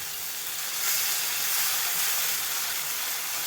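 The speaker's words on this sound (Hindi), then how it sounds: "दही को भी डालकर हमने अच्छे से भून लिया है" Yogurt frying with masala for Kashmiri chicken gives a steady, loud broadband sizzle that holds evenly throughout, close and continuous, with no voices.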